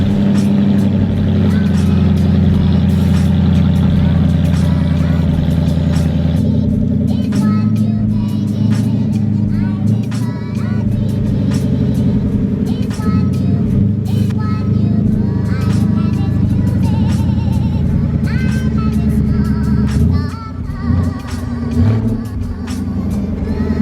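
A Ford Mustang GT 5.0, wrecked, rolls out of a garage with a steady loud engine drone throughout, its low rumble shifting slightly as it moves, with faint talk underneath.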